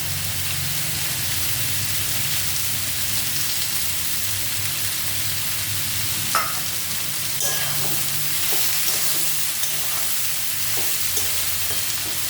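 Food frying in a pan with a little more oil added for a home recipe, a steady close sizzle running throughout with light stirring scrapes and clicks in the later seconds, no talking.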